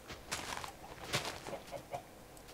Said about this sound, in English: And we've also got some chickens on this island.